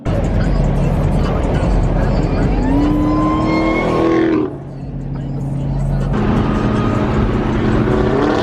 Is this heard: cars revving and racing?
yes